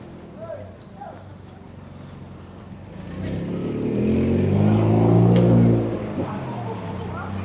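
Traffic rumbles along a busy road. A vehicle swells loudly as it passes close by, then fades, with faint voices mixed into the street noise.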